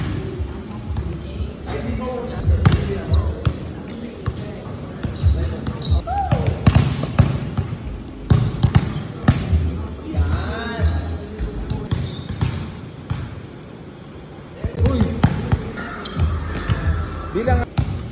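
Volleyballs struck hard during a training drill, with sharp slapping hits and bounces scattered through a busy gym while people talk and shout over them.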